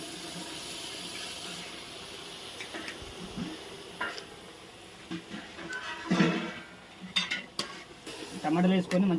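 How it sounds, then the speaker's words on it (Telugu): Tomatoes are stirred into a turmeric-spiced curry in a pan: soft scraping and wet stirring with occasional utensil clinks, growing louder and busier toward the end, with faint voices in the background. "టమాటాలు వేసుకొని మంచిగా కలుపుకుందాం."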